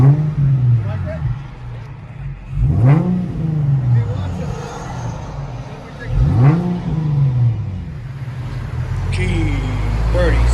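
Inside a 2013 Infiniti G37 with a 3.7L V6, dual exhaust and muffler delete, the engine revs up twice in loud, rising sweeps over a steady droning idle. Background voices are faintly present.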